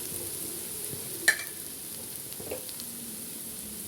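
Spices sauté in a frying pan, giving a faint, steady sizzle with a sharp clink of stirring early on and a few softer scrapes after.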